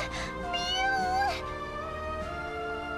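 Cat meowing from the video game Bravely Second, a drawn-out rising and falling mew followed by softer ones, layered over steady game background music.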